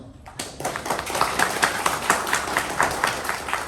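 An audience applauds scout volunteers at a Nepal peace scouts gathering, a steady patter of many hands clapping at moderate distance, rising after a brief quiet start and holding through to the end.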